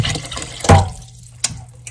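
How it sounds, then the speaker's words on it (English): Tap water poured into a pot of homemade cabbage and sausage soup, a short close splash with a louder burst near the middle and a small second splash near the end, no talking. "we also need a little more fluid in here, so I'm going to add water"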